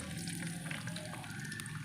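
Capsicum sizzling in hot ghee in a pan, a faint, steady crackling fry with no talk.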